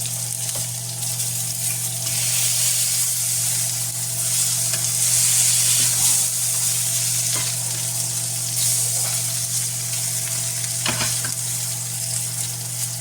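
Four burgers sizzle steadily in a hot pan, a loud, constant frying hiss with faint crackles and occasional light clicks, beneath a low steady hum and with no talking.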